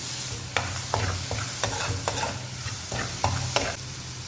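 Beef pepper chukka sizzles steadily in a kadai while a spatula scrapes and clacks against the metal in irregular strokes, close and alone with no talking.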